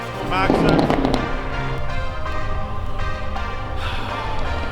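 Car exhaust fitted with a burble tune, letting out rapid pops and crackles like small firecrackers, with people talking over it.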